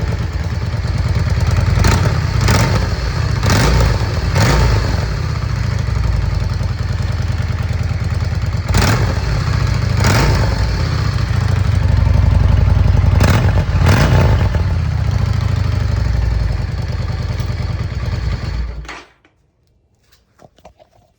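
A 2006 Yamaha V Star 650 cruiser's engine idles with a deep, steady rumble up close, with several short throttle blips along the way, then cuts off and falls silent near the end.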